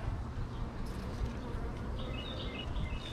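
Bees swarm around a beehive opened for the first time in spring, making a continuous, fairly faint buzz that holds steady throughout.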